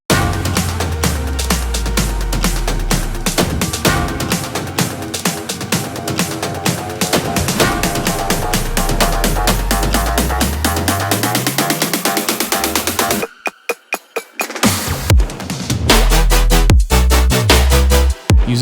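A loud bass house build-up made in FL Studio, with dense driving drums and rising synths. It cuts to a stuttering gap near the end, then heavy bass comes back in.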